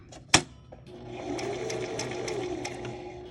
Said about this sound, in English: I'm going to switch back to straight stitch, put my needle down again, and go across the top here